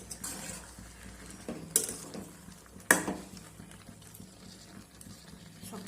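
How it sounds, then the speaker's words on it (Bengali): Chopped tomatoes with cloves and split cardamom pods are stirred in a pot with a metal spatula for homemade tomato sauce, giving soft scraping and a couple of sharp clinks against the pot over low background noise. "এবারে আমি খুন্তি দিয়ে ভালো করে নেড়ে ছেড়ে সব কিছু মিশিয়ে নেব।"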